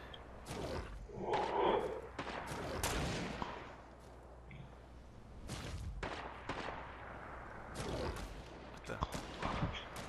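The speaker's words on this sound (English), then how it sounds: "What are you shooting from, Dennis?" Gunfire in Fortnite rings out as a series of sharp shots, some clustered in quick bursts and others spaced apart, with a brief voice partway through.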